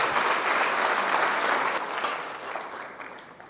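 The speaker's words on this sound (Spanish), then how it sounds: "Denle un aplauso al Rey." A church congregation claps loudly and steadily in a broad wash of applause that slowly thins out toward the end.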